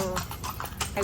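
Horse hooves clip-clop on a street in Intramuros in the Philippines, a quick run of close hoof knocks under people talking.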